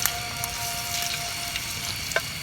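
Salted fish frying in a pan at an outdoor bamboo-hut campsite, a steady close sizzle with scattered crackles and pops throughout, no talking.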